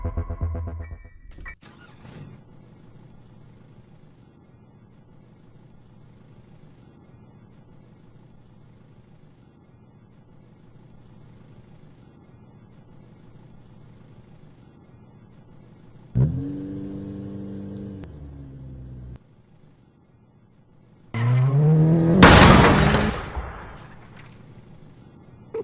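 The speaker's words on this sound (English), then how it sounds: "Granny will drive the car into the player." In the Granny video game, a car is driven into the player. After a long, nearly silent stretch, a short engine burst is followed by a louder rush of engine noise near the end.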